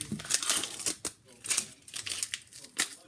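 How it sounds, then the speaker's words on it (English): Papery crackling as the dry outer skin is peeled off a halved onion in a home kitchen, short close crinkles in several bursts with brief pauses between them. "I'm going to take off the outer skin"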